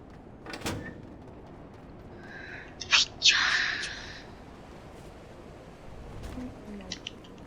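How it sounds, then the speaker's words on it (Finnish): A single sharp sneeze bursts out near the middle of a Fortnite match, brief and close. Quiet game ambience and a few small clicks surround it. "Nyt aivasti."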